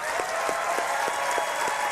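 An audience at the Bethesda E3 2016 conference applauds in a steady, dense wash of clapping heard from a distance, with a few rhythmic claps rising above it.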